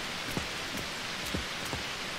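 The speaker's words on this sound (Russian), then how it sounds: "Опять дождь." Rain falls in the video game Garden Life: A Cozy Simulator as a soft, even patter, with a few distinct drops landing at regular intervals and no voices over it.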